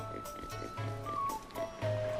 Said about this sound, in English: This pig is slightly intelligent because it's getting away from me.